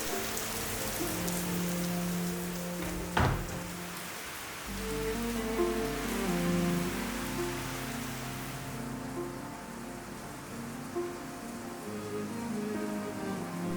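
Tropical rain pours down on a Thai island in a windy afternoon storm, a steady close hiss of drops on surfaces with one sharp knock early on and the roar easing slightly later.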